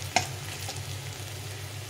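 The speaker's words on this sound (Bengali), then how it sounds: "বেশ খানিকক্ষণ ধরে পেঁয়াজটাকে ভেজে নিতে হবে" Chopped onions fry in a pan for duck egg curry, a soft, even sizzle with a single light clink of a utensil near the start.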